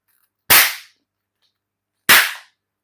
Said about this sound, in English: this guy goes through like party poppers like nobody's business